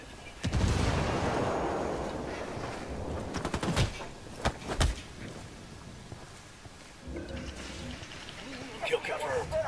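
A frag grenade blast in Ghost Recon Wildlands amid a firefight, with sharp bangs and booms punctuating steady gunfire while voices talk over the combat.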